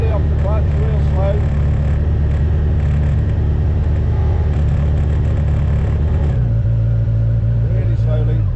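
An F1000 race car pulls away slowly in first gear as the clutch is eased out, a loud, close, low engine drone that holds steady and then drops in pitch, with a voice talking over it.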